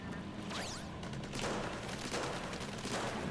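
Ink weapons firing in the Splatoon 3 story mode, a steady rapid stream of sharp shot sounds with whooshing sweeps, loud and continuous with no talk.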